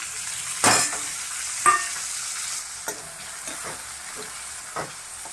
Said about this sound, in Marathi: कांदा कढीपत्ता आणि कांदा चांगला फ्राय करून घ्यायचा कांदा जरा थोडासा लालसर झाला की आपण टॉमॅटो घालायचा